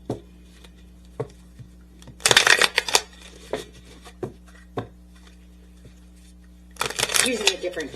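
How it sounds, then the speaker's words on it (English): A deck of tarot cards is riffled and shuffled in two bursts of crisp fluttering, with soft taps and handling sounds between them over a low room hum, recorded close. "So let's get some tarot cards over here."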